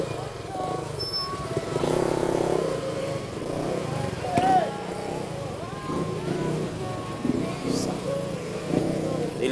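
Road traffic with motorcycles and cars passes nearby, engines droning and revving under ongoing conversation, with occasional louder passes and horn-like tones.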